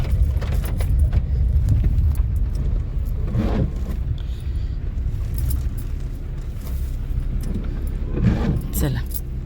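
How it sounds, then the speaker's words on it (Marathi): A car is driven in toward a goddess temple during heavy monsoon rain, its engine rumbling low and steady throughout, with shifting knocks and clatters and voices talking over it. "गाडी आताच घालूया म्हणजे बरं होईल"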